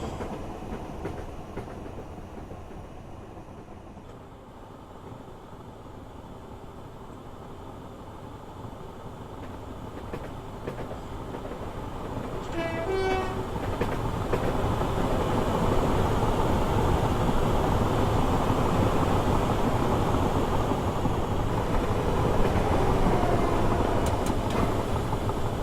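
Class 325 electric train on the London to Brighton line in Train Simulator 2016 builds from a low rumble into a loud, steady roar of rolling wheels and clatter as it passes close by, with no talk.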